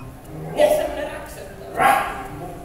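A dog sound is played back as two separate barks about a second apart, moderately loud over a low room hum.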